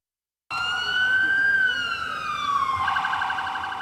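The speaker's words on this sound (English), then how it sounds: "They're using sirens and noisemakers trying to get two grizzly bears to move out of this neighborhood" A loud siren wails close by in a residential neighborhood, used to drive off two grizzly bears, its pitch sliding steadily downward before shifting into a faster, warbling tone.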